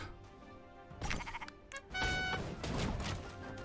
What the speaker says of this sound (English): We got a sheep.